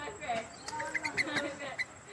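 Sooty-headed bulbul and yellow-vented bulbul give short, clear chirping calls in a scattered series, with a person talking over them at moderate volume.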